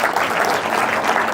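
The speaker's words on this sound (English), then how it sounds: "But I want you to also clap for yourselves very hard." An audience claps loudly and steadily for a brief moment, a dense wash of applause with no voices over it.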